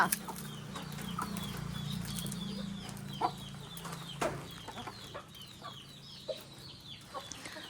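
Hens cluck in short, scattered bursts over a steady low hum, with occasional sharper calls and a faint flutter of wings.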